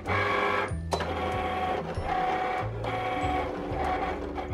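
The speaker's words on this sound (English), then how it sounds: "the machine starts working and cutting your material" A Cricut Explore Air 2 cutting machine runs steadily, its motor whirring and stepping in short shifting tonal bursts as the carriage moves and cuts material, close and continuous with no talk.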